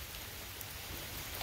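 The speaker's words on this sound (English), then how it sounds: "It's starting to rain again now." Rain falls steadily outdoors in a backyard near a chicken coop, a dense even hiss of drops on surfaces with occasional louder patters, continuous and faint with no talk.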